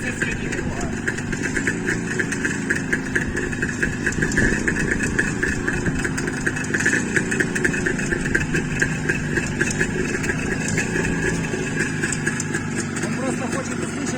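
A Jawa motorcycle engine runs steadily after a cold start outdoors, a close, rapid two-stroke putter with a bright buzzing tone that holds evenly, with faint voices underneath.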